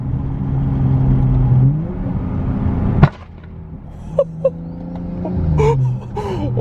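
A flame-tuned BMW 335i in sport mode revs with a steady engine drone, then cuts off with a sharp loud crack followed by a few scattered exhaust pops and crackles.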